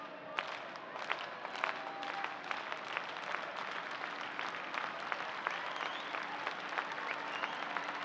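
A modest football stadium crowd at a US Open Cup match applauds continuously, with scattered claps forming a steady, fairly distant patter throughout.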